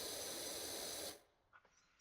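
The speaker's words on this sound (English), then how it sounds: "Can you hear the spray all right?" Pressure washer spraying for a power-washing job, a loud steady hissing blast that runs for about a second, then cuts off abruptly, leaving only faint scattered clicks and low noise.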